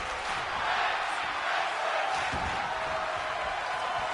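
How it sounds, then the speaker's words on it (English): A large arena crowd roars and cheers steadily in the WWE 2K22 wrestling video game during a tag team match, a dense, loud wash of noise that holds throughout without a break. "You can hear the crowd going crazy."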